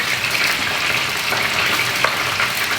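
Grouper fish fries in a hot pan with a loud, continuous close sizzle and crackle, steady throughout with a few sharper pops and no voices.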